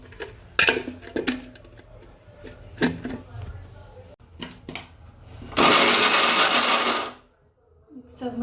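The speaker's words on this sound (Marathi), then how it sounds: "हे गाजर असे काप करून घेतले मिक्सरमधनं काढते बारीक करून घेणार आहे" A mixer grinder blending sliced carrots into paste, starting after some clatter and handling noise and roaring loud and close for about a second and a half before stopping abruptly. Someone talks before it starts.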